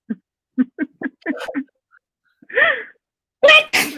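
A single sharp sneeze bursts out after a few short spoken syllables and a breathy build-up, followed by quick laughter and chatter close by.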